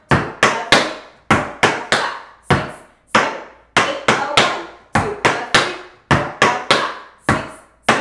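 Tap dance shoes strike a hard floor in crisp, loud clusters of flap heel and ball change steps, sharp metallic taps falling in quick groups of two and three with a steady, repeating rhythm and no talking.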